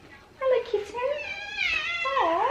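A cat meows repeatedly in long, rising and falling cries, close and fairly loud, with a person's voice mixed in around the calls.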